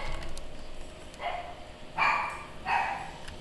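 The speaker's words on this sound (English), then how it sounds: "Oh man, my dogs are freaking out." Dogs barking in the video game Skyrim, a few short yapping bursts heard at a distance, spaced out against a low ambient background with no speech.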